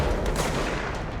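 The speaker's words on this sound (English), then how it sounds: "you're using shotguns at this range, which is ridiculous" Shotgun fire in the video game Control, a quick burst of overlapping booming blasts filling a short moment, loud and dense, with no voices.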